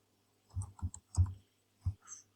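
A username typed on a computer keyboard: a few quick, close key clicks in small bursts, with a short pause before the last taps.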